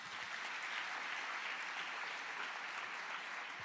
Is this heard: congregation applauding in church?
yes